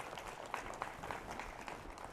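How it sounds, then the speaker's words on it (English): An audience at a horse-riding arena claps for a rider. The applause is faint and distant, a steady patter of many hands that persists throughout. "let's give her a round of applause"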